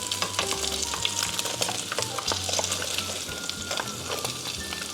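Korean corn dogs fry in hot oil, a dense, continuous crackling sizzle with sharp pops scattered throughout, heard up close and alone.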